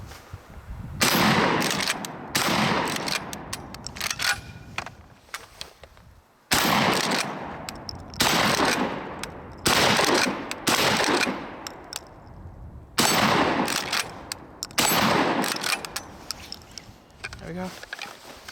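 A TR Imports XP15 pump-action 12 gauge shotgun firing Winchester AA ammo: about five loud, sharp blasts spaced a few seconds apart, each followed by a decaying echo, with pump racking in between.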